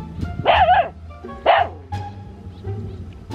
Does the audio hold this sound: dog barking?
yes